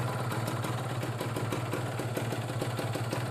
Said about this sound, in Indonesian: Ini mesinnya masih dingin banget ya